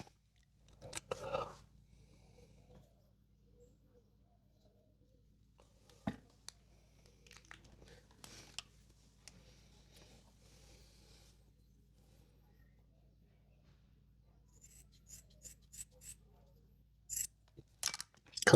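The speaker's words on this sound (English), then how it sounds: "Then you'll just need to mark and cut the excess off." Scissors cut through the spare webbing of an old ratchet strap being reused as foot rests: scattered soft snips and crunches, isolated at first, then denser clustered cuts toward the end, with long quiet gaps between.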